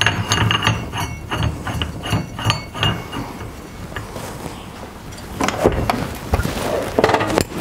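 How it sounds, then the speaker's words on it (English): Close metallic ratcheting clicks in quick bursts as a drill bit is fitted onto a core drill mounted in a rig, with clunks and scraping of parts between them. "then we'll put the drill bit on"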